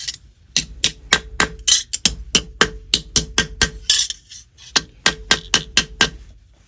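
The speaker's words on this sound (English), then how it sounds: "And now I'm going to gently mallet" A mallet gently taps sheet metal during foldforming, producing a steady series of sharp, ringing strikes at a fairly even rhythm, close and clear, with brief pauses between groups of blows.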